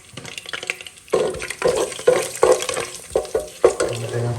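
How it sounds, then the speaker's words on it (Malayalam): Chopped coconut pieces frying in hot oil for a black chana curry, with a loud sizzle broken by repeated stirring scrapes and clatters at an uneven rhythm, close by. "അതിലേക്ക് നമ്മൾ അരിഞ്ഞു വെച്ചിരിക്കുന്ന തേങ്ങാക്കൊത്ത് ചേർത്ത് കൊടുക്കുകയാണ്."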